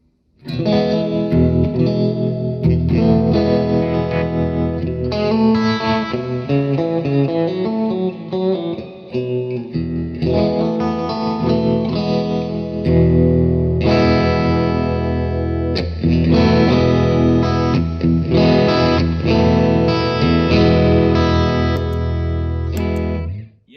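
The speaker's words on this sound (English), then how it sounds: "When you add the gain in there, I think that whatever that sound is of the reverb is like amplified even more" Electric guitar with added gain played through a Mojo Hand FX RVT reverb pedal, distorted sustained chords and melodic phrases washed in lush reverb, loud and continuous with a brief gap near the middle.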